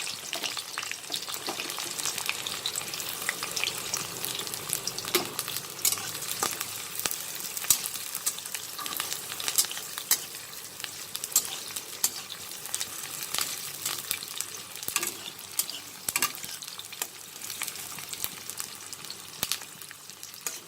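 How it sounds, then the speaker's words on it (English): Onions and dried red chilli fry in plenty of hot oil for okra bhujia, a dense, steady sizzle with crackling pops and occasional stirring scrapes running throughout, loud and close with no talking. "Now I'm going to add the onions and the dried red chilli"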